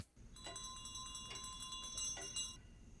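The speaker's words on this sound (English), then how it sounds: "Is that a bell for your mom?" A bell rings with a sustained metallic tone and bright overtones, struck a few times in succession and fading out, fairly faint and alone.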